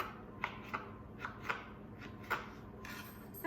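A knife chopping dried apricots into small chunks for homemade granola, a quiet series of irregular crisp taps on a cutting board, soft and close.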